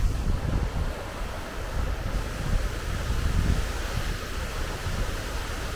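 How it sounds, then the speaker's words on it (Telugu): A waterfall in a pine forest near Pahalgam, Kashmir, roars as a steady, broad, rushing wash, loud and continuous, with wind buffeting the microphone. "ఇక్కడ చూడండి మొత్తం వాటర్ ఫాల్స్ అయితే ఉంది."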